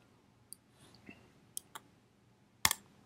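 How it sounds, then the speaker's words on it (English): A computer mouse clicks a few separate times while a name is highlighted and deleted, each click a crisp tap close by in a quiet room, ending in a louder double click. "so you know the clicking sound"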